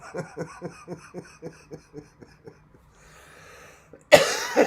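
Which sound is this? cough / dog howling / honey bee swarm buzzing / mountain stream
cough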